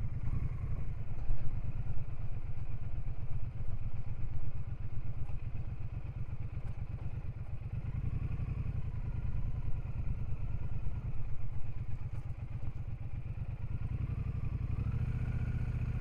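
A Triumph Speedmaster 1200 motorcycle rumbles along at walking speed, its engine giving a close, steady low throb with a light mechanical clatter throughout.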